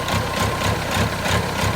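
A car engine idles steadily after a fuel induction service, giving a continuous close rumble with a faint regular pulsing and no speech over it.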